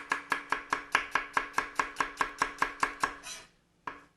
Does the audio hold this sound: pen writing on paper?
no